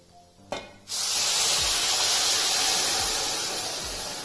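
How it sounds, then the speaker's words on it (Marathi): Three cups of hot water hit a pan of fried sprouted moth beans in spiced masala. A sudden loud hissing splash swells into a sustained steamy sizzle that slowly eases. "ह्यामध्ये आपण 3 कप गरम पाणी घालूया"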